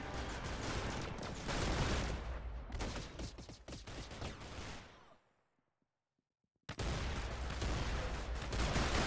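Rapid, loud bursts of pump shotgun fire and other gunfire fill a video game match. They stop for a moment of near silence, then the dense firing resumes.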